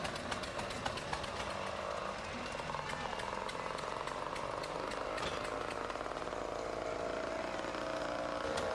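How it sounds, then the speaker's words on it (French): Chainsaws and a log splitter from the 1940s and 1950s, used for firewood production, run on a float in a town parade. They make a continuous loud engine drone with rapid ticking, unbroken for the whole stretch, and faint voices may sit underneath. "La fendeuse et les scies à chaîne que vous voyez en opération sur ce char"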